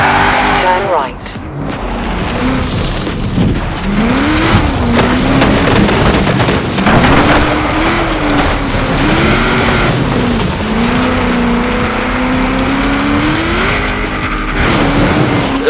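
Race car in Forza Horizon 4 driven with a wheel and shifter, engine droning steadily and rising and falling through gear changes with some tire noise, under a voice talking.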